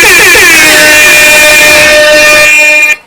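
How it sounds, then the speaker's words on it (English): A blaring air horn sounds in one long, loud, sustained blast for about three seconds, then cuts off abruptly. "So let's give him an air horn"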